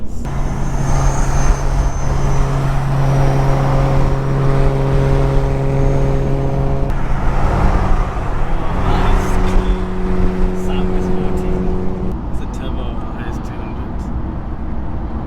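A Honda car engine drones steadily from inside the vehicle at a Japanese car show, with a low rumble and tonal hum throughout, and voices talking over it.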